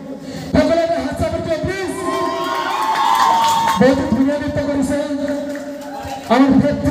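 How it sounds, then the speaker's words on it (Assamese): An audience claps and cheers after a dance performance at a local dance event, with loud bursts of crowd cheering and shouting mixed with a voice over a loudspeaker. "সকলোৱে হাত চাপৰি দিয়ক প্লিজ বহুত ধুনীয়া নৃত্য কৰিছে"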